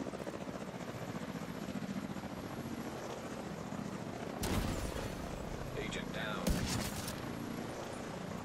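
In The Division 2, an assist helicopter drones with a continuous rotor hum throughout, while sharp bursts of gunfire break in twice near the middle and later.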